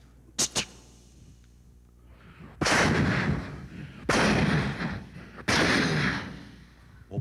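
A performer's voice imitates a Type 90 pistol firing: two quick sharp pops, then three loud, sustained blasting bursts spaced about a second and a half apart, close and forceful with no other sounds between.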